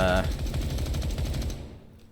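An XM7 rifle fires in the Ground Branch video game as a rapid, steady burst of automatic shots, loud and close for under two seconds before trailing off.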